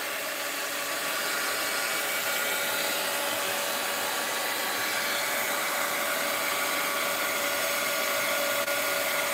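Hair dryer or heat tool blowing steadily while drying a piece of artwork, a constant loud whooshing airflow that runs unbroken from start to end with no voices.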